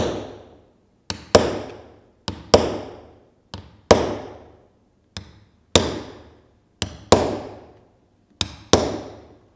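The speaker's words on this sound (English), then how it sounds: "glue it like this, and with this hammer" A hammer taps glued purfling down into its channel on an instrument body at the workbench. About a dozen crisp, close strikes land in loose pairs and singles, each decaying quickly, with no talking.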